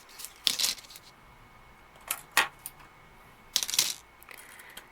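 Hand cutters snip straight pieces off a plastic model sprue for a miniature duster handle: three sharp, dry clicks spaced across a quiet room, each crisp and close, with no talking.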